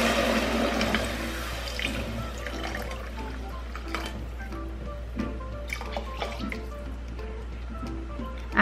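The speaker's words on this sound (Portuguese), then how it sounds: "Vou colocar a água aqui." Water is poured into a pressure cooker onto rice that has just been fried, giving a running, splashing pour with bubbling and drips over a low steady hum, close and without talk.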